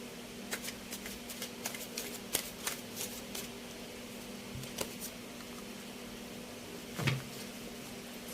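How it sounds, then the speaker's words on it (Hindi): A deck of tarot cards is shuffled close by, giving a steady run of crisp riffling and flicking bursts over a low background hum, with no talking. "so I will shuffle the cards and I will take out 12 cards"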